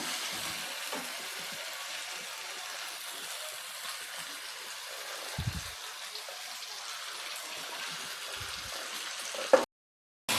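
Prawns frying in a spicy red chili masala, a quiet steady sizzle with a few soft stirring scrapes near the middle, ending in a brief clunk and a moment of silence, no voices.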